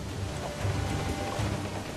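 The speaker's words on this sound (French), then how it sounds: "Et là, en plus, il pleut, c'est vraiment génial." Rain falls in the game Assassin's Creed IV, a steady, dense hiss of downpour with a low rumbling underlayer, even and moderately loud throughout with no speech.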